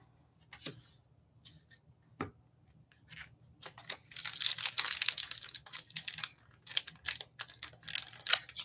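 Plastic packaging around trading cards is opened by hand, giving a few isolated crinkles and then a longer, busy run of close crackling, tearing and rustling. No one speaks.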